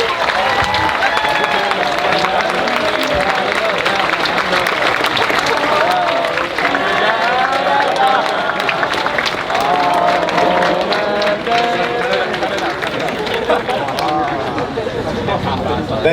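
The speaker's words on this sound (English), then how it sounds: "I think you guys deserve a huge round of applause" Sustained audience applause and cheering at a RoboSub robotics competition award ceremony, honoring teams from outside the United States; dense, steady clapping from a large crowd with chatter mixed in, continuous throughout.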